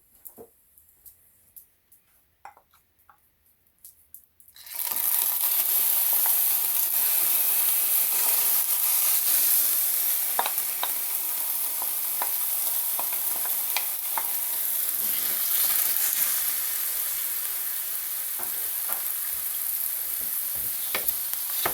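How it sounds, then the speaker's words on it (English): After a few seconds of near silence with small clicks, a loud, steady sizzle of tofu frying in a hot skillet starts suddenly and continues, with occasional pops and crackles. "The skillet is warm. Time to add the tofu."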